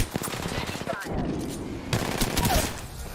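Rapid automatic gunfire in the Apex Legends video game, loud and close, with bursts that rise and fall and game voices heard under the shooting.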